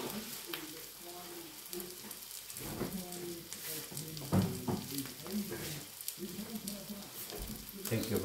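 Omelette with tomatoes frying in a pan, a steady crackling sizzle with brief bursts of louder spitting, close up, with occasional soft kitchen knocks.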